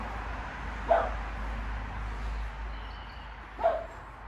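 A dog gives two short, single barks some distance away, spaced a few seconds apart over a low steady background hum.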